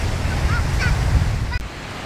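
Surf breaking on a beach at Tanjung Lesung, heavy and continuous with low wind-blown roar close to the microphone, no voices.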